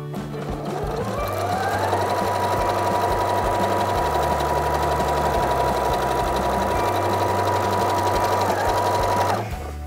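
A sewing machine with a rolled-hem foot finishing the seam allowance along a skirt edge, running in one continuous fast mechanical hum and chatter for nearly ten seconds, close and loud, then stopping abruptly.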